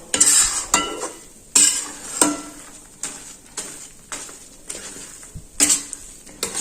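Roasted flour and mawa for adadiya get stirred in a pan, with repeated scraping strokes and metallic clinks of a spoon against the pan in an uneven rhythm, up close and with no talking.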